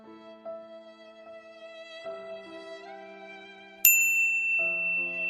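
A phone ringtone plays in a home, a melodic sequence of clean electronic tones that steps between pitches and turns louder and brighter partway through.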